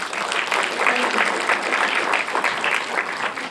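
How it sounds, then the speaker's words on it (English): A crowd at a film festival Q&A applauds, dense and continuous clapping from many hands in a hall, held at an even level from start to finish with no speech over it. "they deserve a round of applause"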